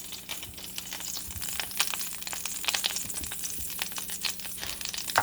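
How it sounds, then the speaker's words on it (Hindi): Ground masala paste frying in hot oil in a pan or pot, a steady close sizzle with crackling pops and bursts throughout, no voices. "इस तेल के अंदर हम इसके मसाले को पहले फ्राई करेंगे।"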